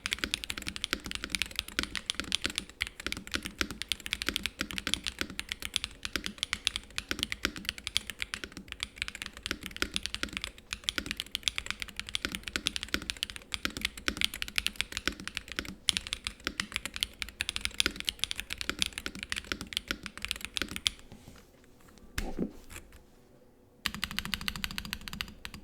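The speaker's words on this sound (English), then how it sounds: "it's got that pretty distinct Hall effect switch sound that produces a poppy clack" Rapid, continuous typing on a budget Hall effect switch keyboard, each keystroke a poppy clack close up, running for about twenty seconds before a short pause and a brief resumption.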